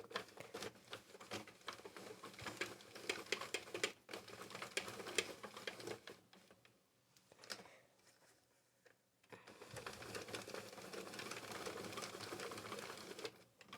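Sentro knitting machine working very soft Bernat Fluffee yarn, a rapid clattering, ticking mechanical patter close by that pauses midway for a few seconds, then resumes steadily.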